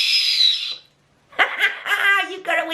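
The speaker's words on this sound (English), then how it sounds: "you've got a whistle" A Swizzels candy whistle, a sucked love-heart style sweet, is blown in a shrill, breathy tone that fades out, then gives a few weaker squeaky toots after a short gap.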